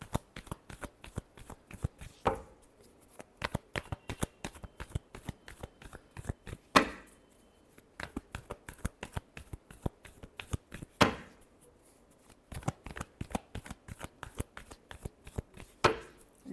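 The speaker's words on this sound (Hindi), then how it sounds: "Last shuffle." A deck of cards is riffled and shuffled close by, quick bursts of crisp fluttering snaps repeated several times with short pauses between rounds.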